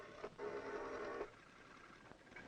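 A high-speed telephone exchange selector runs in a brief, faint mechanical whirr lasting about a second, bracketed by soft clicks, then quiet hum.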